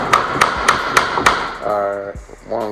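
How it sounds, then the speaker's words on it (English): A hammer knocks a glued flooring plank into place with five sharp, evenly spaced taps close by, then a voice speaks briefly as the tapping stops. "one little bitty tap"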